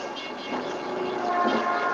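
A train rumbles past nearby, a steady broadband roar that swells slightly toward the end.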